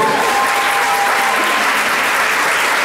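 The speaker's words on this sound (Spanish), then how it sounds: "habrá que recibir con un fuerte aplauso a ellos" Loud, sustained applause from a large crowd at the Santa Fe Pole Championship 2017, a regional pole dance competition, steady dense clapping filling the whole stretch without a break.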